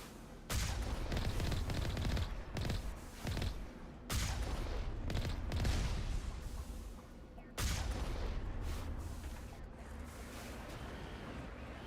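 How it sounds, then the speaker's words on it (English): Enemy gunfire in the video game Mass Effect: Legendary Edition, dense bursts of rapid shots and booming impacts that come in waves, loud and nearly continuous, with no talking. "And it is firing on me."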